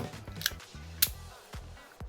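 A Rollei 35 film camera's leaf shutter tripped several times at different set speeds, giving short sharp mechanical clicks spaced about half a second apart, close up and quiet, with no voices.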